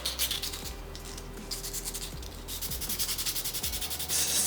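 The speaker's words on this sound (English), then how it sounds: "this sandpaper is probably not rough enough for the initial sanding, since it is taking a while" Sandpaper rubbing across a mechanical keyboard keycap, close and fairly quiet, with rapid back-and-forth scratchy strokes that quicken into a steady rhythm toward the end.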